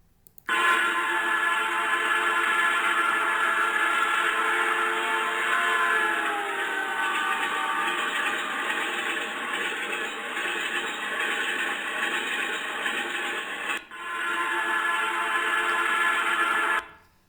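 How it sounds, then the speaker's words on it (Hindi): A long, continuous train whistle demonstrating the signal sounded when approaching a tunnel, curve, cutting or accident site; one loud, steady tone holds for about thirteen seconds, breaks very briefly, then resumes for a few more seconds, with no talking. "फिर देखते हैं हम लगातार लंबी सीटी।"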